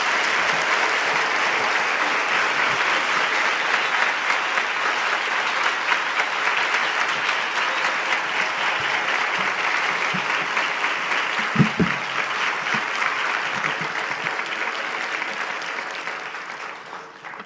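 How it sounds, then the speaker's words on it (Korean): Sustained applause from a large church congregation at a Friday service, welcoming the pastor; fills the whole stretch, steady and dense, thinning slightly toward the end. "우리 큰 박수로 우리 목사님 모시겠습니다."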